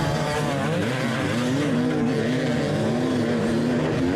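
A pack of dirt bikes roars off the start line at the 2024 King of the Motos race on a sandy, rocky course, their engines loud and continuous with wavering revving pitches and no voices.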